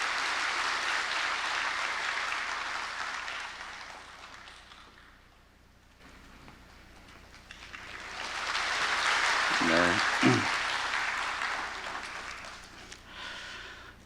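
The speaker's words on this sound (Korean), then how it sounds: "우리 박수로 이 아이를 축복합니다" Church congregation at a Sunday worship service applauding to bless a child, a broad steady wash of clapping that swells, dips midway, then rises again, with a brief voice breaking through near the end.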